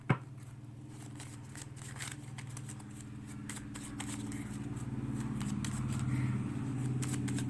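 Tarot cards are handled and drawn at a reading, giving soft papery riffles and slides up close over a low, steady background hum.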